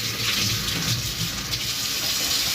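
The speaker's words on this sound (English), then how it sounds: "I'm gonna wash the knife real quick." A kitchen knife is rinsed under a running tap, giving a steady loud gush of water close by, with small splashy shifts as the blade moves through the stream.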